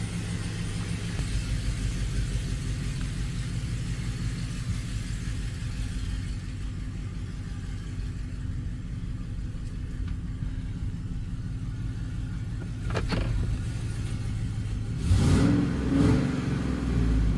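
A GMC Sierra 1500 truck's 5.3-liter V8 rumbles steadily, then revs up toward the end with a rising, throaty burst, heard up close without any talking.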